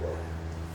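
A small dog barks indoors at a truck outside, one short yip at the start followed by a low steady hum, with no one talking.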